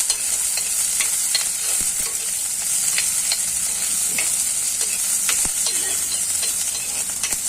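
Chopped jackfruit leaves for thoran are stirred in a hot pan, a close sizzle punctuated by repeated sharp scrapes and taps of the spoon at an uneven pace, without speech.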